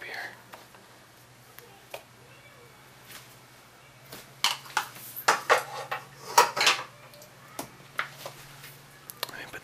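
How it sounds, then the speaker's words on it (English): Small metal scoop scraping and clinking against a container of ice cream for ice cream bread, close and soft, with quiet scrapes early and a busier run of clinks and taps in the later half. "Let's get a little tiny scoop here."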